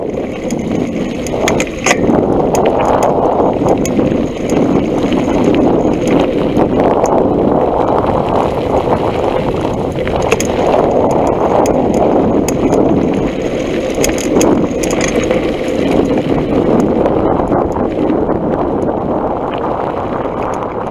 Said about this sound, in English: it does pick up a lot of audio, the gravel on the road, my shifting, and quite a lot of wind